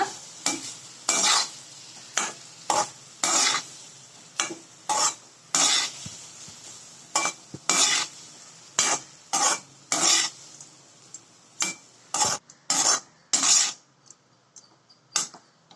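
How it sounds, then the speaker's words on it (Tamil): Cooked rice stirred into a raw mango mixture in a pan, a spoon scraping in repeated short strokes with brief pauses between, close and fairly loud, no talking. "இதுல வடிச்சு வச்ச சாதத்தை சேர்த்துக்கோங்க. இதை நல்லா கிளறி விட்டுக்கோங்க."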